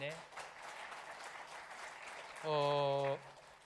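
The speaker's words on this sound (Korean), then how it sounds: "박수로 한번 환영하겠습니다" Church congregation applauding to welcome a newcomer during a Sunday worship service, a steady wash of clapping from a gathered crowd, with a voice speaking over it at the end.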